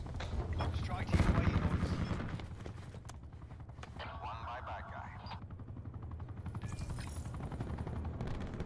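An attack helicopter in Black Ops 4 gameplay drones under bursts of gunfire and a busy battle mix, its rotor thrum steady throughout while distant shots crackle.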